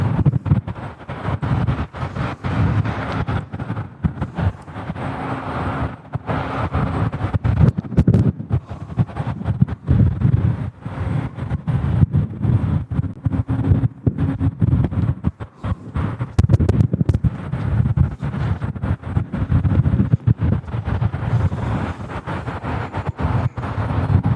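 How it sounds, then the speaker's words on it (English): Heavy wind buffeting the microphone at Louisville International Airport, rumbling in uneven gusts that dominate throughout. "I know it's quite windy here."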